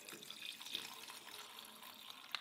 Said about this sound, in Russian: А теперь все это водой заливаем